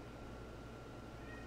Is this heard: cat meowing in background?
yes